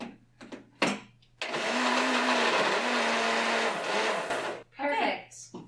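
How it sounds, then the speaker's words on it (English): A countertop blender runs loud and steady for about three seconds, whirring through an anti-inflammatory drink, with brief voices and clatter before it and talk resuming after. "So we're gonna blend. Plug your ears."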